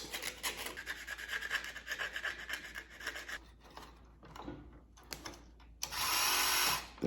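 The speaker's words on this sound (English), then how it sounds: "Try some sandpaper on this." Fine sandpaper rubbing against a gear on a 1979 Kenner toy Millennium Falcon, quick scratchy back-and-forth strokes in bursts with brief pauses, close and fairly faint, ending in a harsher sustained scrape.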